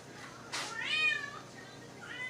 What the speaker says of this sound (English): And there's our kitty cat.